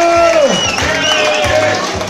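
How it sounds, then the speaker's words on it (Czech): At the Mikulov beer festival's wet T-shirt contest, a crowd applauds and cheers for a contestant. The claps and whoops come through under a host's amplified voice and festival music, lively and sustained. "potlesk pro Lenku"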